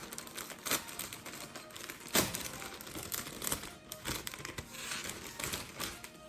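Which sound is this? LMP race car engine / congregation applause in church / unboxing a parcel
unboxing a parcel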